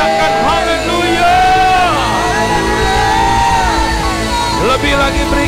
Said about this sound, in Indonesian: Teriakan haleluya.